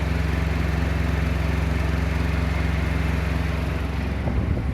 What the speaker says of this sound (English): it's going to get loud because the APU is running